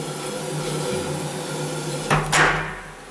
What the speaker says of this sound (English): Now I will unlock it.